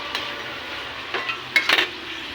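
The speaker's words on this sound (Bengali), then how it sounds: "হলুদ দিয়ে মালটা একটু নাড়াচাড়া করবো" Chicken curry with turmeric is stirred in a pan, a few soft scraping and clinking strokes of a spoon against the pan over a faint kitchen background.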